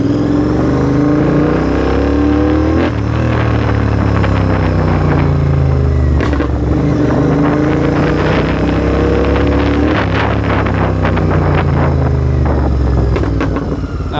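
A GT650 motorcycle engine revs hard and close, pitch climbing in repeated rising sweeps through the gears with brief dips at each shift, loud and continuous throughout.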